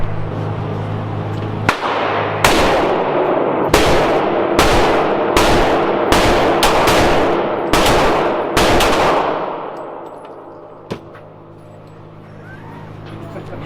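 Rapid gunfire from an AR-15 or Desert Eagle at an outdoor shooting session: about eight loud, sharp shots in an uneven burst, each with a ringing tail, then a single fainter shot after a pause.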